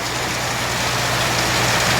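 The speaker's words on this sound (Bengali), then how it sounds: "অনেক বৃষ্টি পড়ছে, অনেক বৃষ্টি, ভালোই বৃষ্টি হচ্ছে।" Heavy rain pours down outside an office building, a dense, loud, unbroken roar of falling water with a low rumble underneath and no voices.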